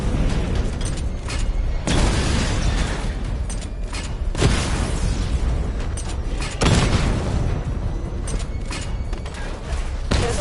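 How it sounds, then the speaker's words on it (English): Missile barrage explosions in Batman: Arkham Knight, a dense run of heavy booming blasts with several strong bursts hitting in succession over continuous rumbling, loud and close, with no talk. "Charge the missile barrage to level 2 to destroy up to 4 targets at once."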